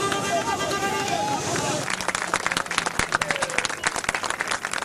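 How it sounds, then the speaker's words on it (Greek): Crowd applause and cheering as police remove protesters from a square where gatherings are banned, a dense continuous roar that gives way to scattered, uneven clapping with voices mixed in. "Χειροκροτήματα και επιφημίες τους ακολουθούν."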